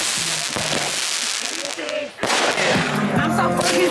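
Fireworks are set off at night, a rapid crackling burst of pops and bangs that stays busy throughout, loud and fairly close, with voices talking in the background.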